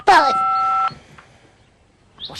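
Telephone keypad tones from a number being dialled in a 1995 children's TV show, heard as one steady dual-pitched electronic tone held for under a second, then near quiet.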